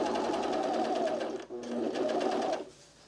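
A sewing machine runs in two steady bursts while stitching a seam on a pair of pants, with a brief pause midway and a quieter tail at the end; the motor hum sits close and loud.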